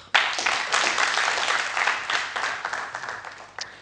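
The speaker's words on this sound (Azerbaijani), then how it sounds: "ürəkdən alqışlayaq" A studio audience bursts into loud, sustained applause at a televised contest, dense clapping starting abruptly, then gradually thinning toward the end with a final few claps.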